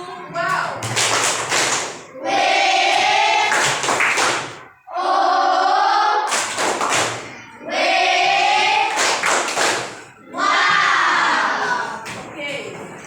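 A class claps together in a rhythmic patterned chant for a classmate named Bella, loud, close bursts of hand claps and thumps mixed with children's voices, repeating in several rounds with brief gaps.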